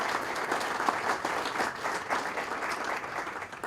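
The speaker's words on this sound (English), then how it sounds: "And so give them a round of applause." A ground-breaking audience at the McKennan Park wading pool applauds a donor family, a steady wash of many hands clapping close by without letup for several seconds.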